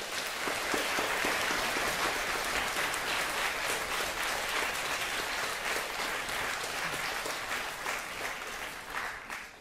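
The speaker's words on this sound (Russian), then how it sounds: "Я тоже аплодирую" Concert audience at an Estonian benefit concert for Ukraine claps steadily, a dense even roar of hands that fills the whole stretch and tapers slightly at the end.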